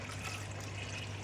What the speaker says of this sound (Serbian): Pumpa je krenula.